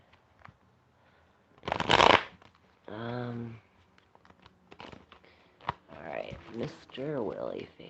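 A deck of tarot cards is shuffled in one short, crisp riffling burst during a live reading, followed by a person talking.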